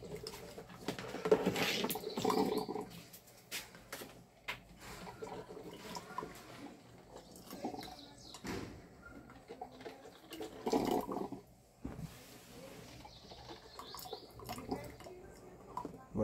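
Water trickling and gurgling through a home drip coffee maker as the brew nears its end, soft bubbling bursts and hisses coming and going close by, fairly quiet.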